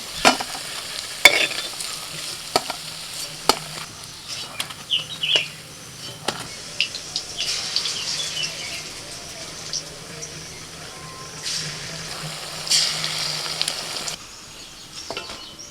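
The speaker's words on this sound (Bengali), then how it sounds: "এইরকম একটু লাল লাল করে ভেজে আমি তুলে নিচ্ছি" Koftas frying in oil crackle steadily while repeated scraping and stirring clatter sounds out in irregular bursts, fairly close.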